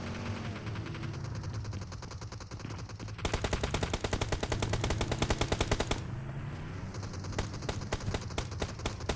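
Rapid automatic gunfire at a shooting range in the PUBG Mobile game, loud and continuous with sharp repeated bursts that intensify midway, pause briefly, then resume.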